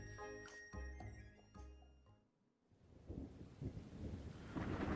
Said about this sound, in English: a sudden crack of thunder jolts you awake